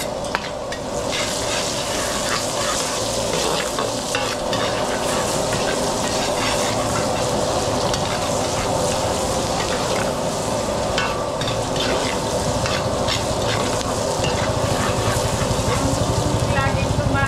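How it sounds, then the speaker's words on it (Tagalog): Garlic and onion sauté in a hot pan with steady, dense sizzling and frying crackle, punctuated by stirring scrapes, while people chat nearby in the background throughout. "igisa muna natin to, bawang sibuyas"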